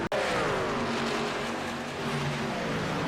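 A racing truck in an IEL Truck Series racing video game slides to a stop after a crash into the inside wall, its engine droning steadily and loudly throughout with a brief sharp impact at the very start.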